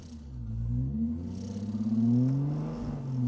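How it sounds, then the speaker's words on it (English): A car in The Grand Tour video game vibrates heavily, giving a steady low, throbbing rumble with rising and falling engine tones that holds loudly throughout. "What was that noise? Whole car's vibrating."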